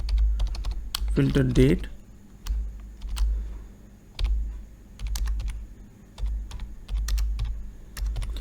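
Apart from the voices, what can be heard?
typing code on computer keyboard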